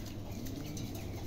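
A pair of exhibition homer pigeons gives a soft, low, continuous cooing, heard close up in a quiet setting with faint rustling.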